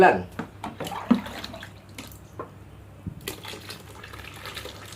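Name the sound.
pouring water into car shampoo mixture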